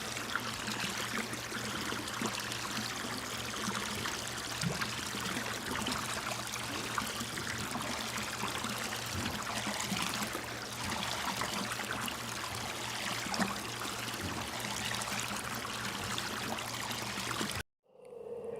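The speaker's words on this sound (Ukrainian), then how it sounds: "Весна дзвенить водичкою в річках, озерах, водоймах." Spring water flows and trickles steadily in a stream, a continuous broadband rush with a low steady hum beneath, ending abruptly.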